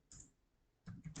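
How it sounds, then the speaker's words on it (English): Computer keyboard typing, a few quick soft key clicks in two short bursts separated by a pause, close but quiet. "I'll just type that."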